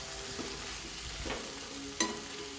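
A spoon stirs potato and drumstick curry in a pan just seasoned with turmeric, chili powder and salt, giving soft scraping and a light steady sizzle, with two sharper clinks of utensil against the pan.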